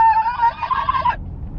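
A turkey gobbles once in a single wavering, ringing call of about a second, close and fairly loud, then breaks off into low background rumble.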